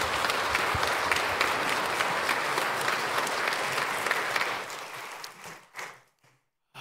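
A church congregation gives the senior pastor a big, sustained round of applause at a celebration, dense clapping filling the room for about five seconds before thinning out and stopping.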